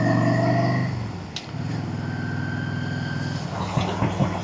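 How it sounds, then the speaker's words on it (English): A large vehicle's engine pulls and accelerates along a slow country road near Yewtree Tarn, a steady loud drone rising in pitch, close and continuous with no talk. "Lots of displacement in a vehicle that big"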